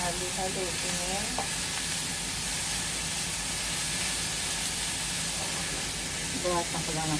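Vegetables and banana heart fry in a pan with a constant loud sizzle and hiss while being stirred, with faint scraping strokes near the start and end.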